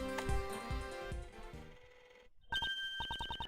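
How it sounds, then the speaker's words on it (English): A cell phone rings from a tape recording in the Ace Attorney Investigations video game, a tonal music passage giving way to a steady run of repeated electronic ring pulses, fairly loud and with no talk over it. "Judge Courtney's cell phone is ringing."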